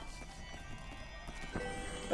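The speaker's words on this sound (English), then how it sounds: "get this horse off of me!" A horse in the video game Child of Light clip-clops with soft, quick hoof sounds under game music, fairly faint and brief.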